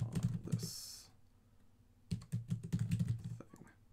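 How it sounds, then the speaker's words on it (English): Fingers tap on the tight on-screen keyboard of a Boox Tab Mini C tablet, producing quiet close-up clusters of soft taps with a brief pause between two bursts of typing. "it's a tight keyboard, so it's kind of hard to type on"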